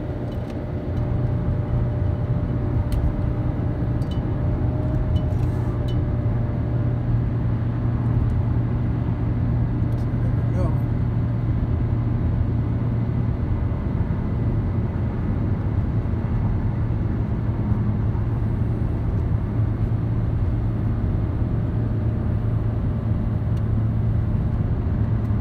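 A Chevy Colorado pickup with a 2.5L four-cylinder engine, towing a 1964 Impala SS uphill, drones with a steady, loud low hum and road rumble inside the cab, with no talk.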